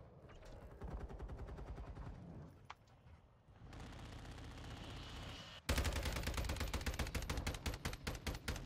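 Rapid automatic gunfire from an airplane in a first-person shooter game, bursts of dense rattling shots that grow louder and harsher in the second half, with no talk.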